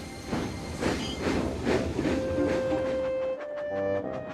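A Thomas toy steam engine puffs along its track with a rhythmic chuffing hiss, a run of regular puffs that ends in a short whistle-like tone and a clatter.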